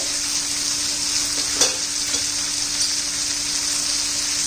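Onion-garlic masala and turmeric being stirred and fried in hot oil for a black bean curry, giving a continuous close sizzle with a few soft scrapes of the spoon.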